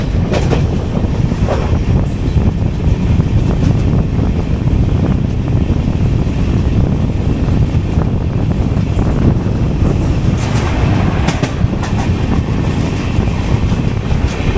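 A Guntakal–Bodhan passenger train passes close by, heard from an AC three-tier coach of the moving Kacheguda–Madurai Superfast Express: a loud continuous rumble with wind rush and rhythmic wheel clatter across the whole stretch.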